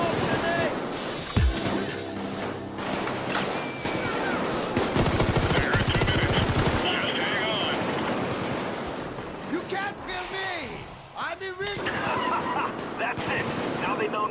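Machine gun fire in the heist shooter Payday 2: loud rapid bursts and crashing impacts across a chaotic firefight, with things shattering, easing off near the end where a voice briefly cuts in.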